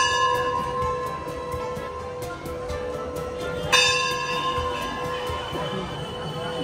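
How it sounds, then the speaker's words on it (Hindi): Large temple bell at Prem Mandir in Vrindavan, rung by rope from below, with repeated ringing metallic strikes whose tones hang and overlap, one louder stroke partway through, over faint crowd murmur. "ये ऊपर मंदिर में घंटा लगा है वो सामने"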